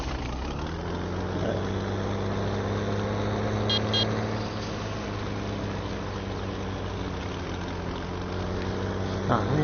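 A tractor engine idles and drones at a steady low pitch in Farming Simulator 17, continuous and moderately loud, with faint clicks over it and no speech.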